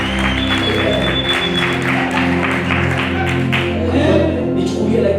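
A church congregation claps in a steady, dense wash of applause that runs the whole time over a sustained low musical drone, with no pauses.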